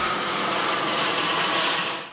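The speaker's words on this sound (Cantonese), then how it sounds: "隸屬法國空軍嘅花式飛行表演機隊——法國巡邏兵飛行表演隊喺會場上空飛過" Patrouille de France aerobatic jets of the French Air Force roar overhead at the Paris Air Show, a loud, steady broadband engine rush that holds throughout and eases slightly at the end.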